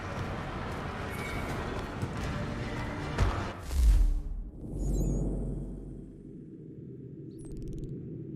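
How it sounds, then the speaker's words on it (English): A horse neighs and hooves clip-clop in a fantasy video game, with a low rumble and a brief whoosh midway, then quieter ambience. "I'll arrange for horses while you do that."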